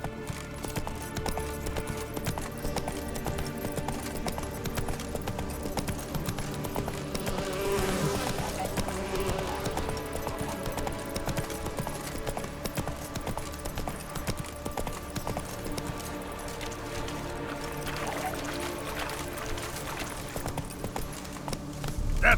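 Roach the horse gallops in The Witcher 3, a steady rapid clip-clop of hooves running on without pause for the whole stretch, fairly loud and close over a dense game soundscape.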